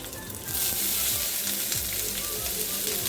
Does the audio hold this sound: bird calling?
no